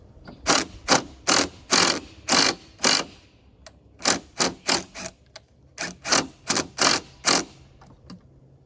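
Plastic headlight fasteners on a 4th-gen Ram are tightened with a ratchet, giving close, crisp clicking bursts in repeated quick runs separated by short pauses.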